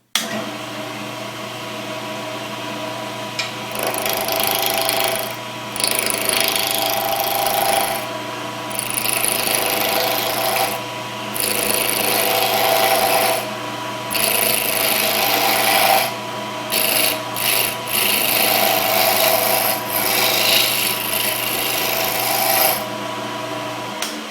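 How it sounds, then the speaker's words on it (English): Spindle roughing gouge cutting a spinning wooden blank for a wine bottle stopper on a lathe, a loud rasping, scraping roar in repeated passes with short pauses over a steady motor hum. "So let's take the spindle roughing gouge and make this thing round."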